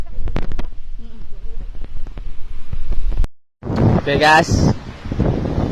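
Loud wind at Rimboh beach buffets the microphone in rough gusts, a brief cut to silence, then a person speaks over the continuing blustery roar.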